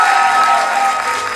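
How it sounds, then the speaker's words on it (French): Audience at an improv show in Paris applauds loudly and steadily, a dense wash of clapping from a crowd that holds at an even level throughout. "j'ai encore besoin de vos applaudissements!"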